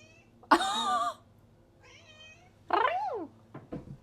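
A real cat meows loudly and up close twice, a long, strained cry followed by a shorter bending one after a pause, with a few small knocks at the end in a quiet room.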